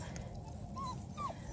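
Black and tan beagle cross puppies let out two brief, faint high whimpers over a low background rumble.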